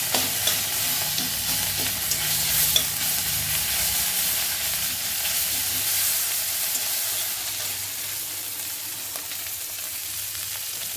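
A fried fish head is broken apart in a hot pan, with a loud continuous sizzle and hiss of oil and soft scraping stirs under it, easing slightly toward the end.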